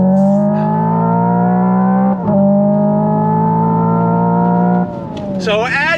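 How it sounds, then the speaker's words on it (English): A 2025 Hyundai Ioniq 5 N electric performance car launching under launch control, with its loud synthetic engine sound rising steadily in pitch and dropping abruptly at simulated gear shifts, close and continuous. "it's doing simulated shifts and you're getting a bunch of simulated sound"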